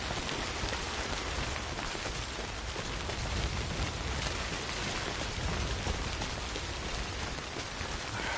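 Steady, heavy rain hisses across the whole soundscape in Death Stranding, an unbroken dense downpour with no talk and no distinct thunder.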